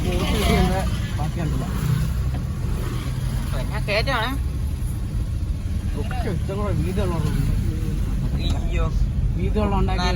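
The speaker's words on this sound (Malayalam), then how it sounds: "ബോട്ട്" A boat engine runs with a steady low drone on open water near Kumarakom, continuous beneath frequent close talk and voices.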